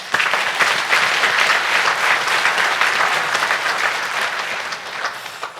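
A congregation applauds at a year-end Won Buddhist dharma service, the clapping dense and sustained at an even level for several seconds before easing slightly.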